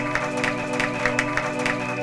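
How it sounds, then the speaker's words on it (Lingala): A church congregation claps in a steady rhythm over sustained music, the even beats repeating at a brisk pace for the whole stretch. "Acclamez pour la gloire de l'Éternel notre Dieu"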